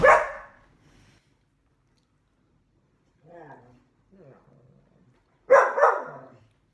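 A dog gives a loud bark at the start and another pair of sharp barks near the end, indoors and close, with quiet muffled sounds and brief talk in the gaps between.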